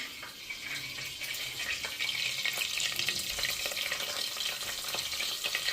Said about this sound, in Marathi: कढीपत्ता टाकलाय, सगळ्यात आधी कढीपत्ता टाकलाय मी